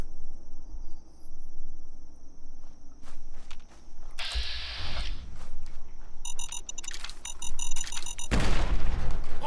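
In Fallout 4, a frag mine goes off with a sudden heavy boom among quieter footsteps and ambient game sounds. A second loud, deep blast follows near the end.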